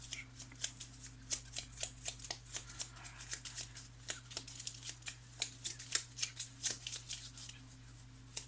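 Small Lenormand cards are shuffled and cut by hand, making a steady run of crisp papery riffles and taps close up over a low constant hum.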